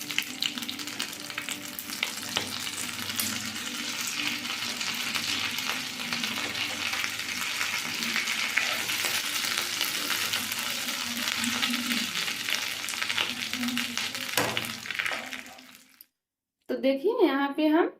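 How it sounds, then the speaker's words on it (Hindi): Egg lollipops fry in hot oil to golden brown, a dense, steady crackling sizzle that runs close and constant for most of the stretch before cutting out; a voice speaks briefly at the very end. "यहाँ पे हम अच्छे से फ्राई कर लिए हैं एकदम गोल्डन ब्राउन होने तक"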